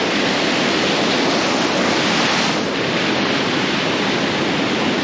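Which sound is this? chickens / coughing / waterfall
waterfall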